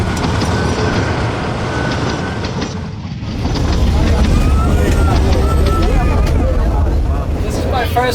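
Rumbling, rattling ride aboard a Tazara passenger train rolling along the rails in Africa, a steady loud rolling din with clattering knocks and a brief dip before it swells again.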